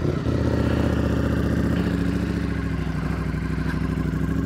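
A Ducati Streetfighter V4 motorcycle fitted with a black Termignoni exhaust idles loud and close, its steady, throbbing engine note running throughout with slight rises in pitch.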